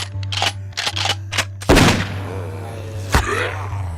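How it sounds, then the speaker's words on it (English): A rifle fires a quick burst of sharp shots, then a heavier blast with a long decaying boom and one more crack, loud and close over a low steady hum. "Are you going to take the long distance approach and use a rifle?"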